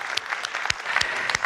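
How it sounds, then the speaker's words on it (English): Schoolchildren applaud themselves after a song at a school visit, a dense wash of many small hands clapping close by, with a few sharper individual claps and faint voices mixed in. "Give yourselves a clap."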